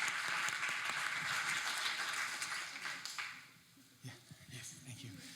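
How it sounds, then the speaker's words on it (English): An audience claps for dancers in a steady, dense round of applause that fades after a few seconds into scattered claps, with voices beginning underneath. "Please give them a big round of applause"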